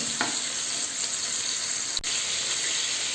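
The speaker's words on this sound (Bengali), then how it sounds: "এগুলো হালকা ভেজে নিলেই হবে" Chicken and vegetables lightly frying in hot oil for restaurant-style Hakka noodles, a continuous bright sizzle with a brief spatter early on and a short dip partway through.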